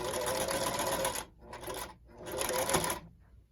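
A janky sewing machine runs backward stitches along a rolled hem in three loud, close bursts separated by short pauses.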